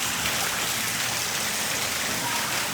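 Heavy rain pours down steadily, a loud, dense hiss of water drumming on surfaces that stays constant and close without any break.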